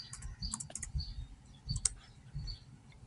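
Computer keyboard keys clicking in short irregular bursts, close and moderately quiet, with no talking.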